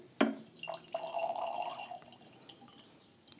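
Water poured into small containers of freshly sown canna seeds, a sharp splash followed by a trickling, gurgling fill that tapers off with a few stray drips, close by and without talk.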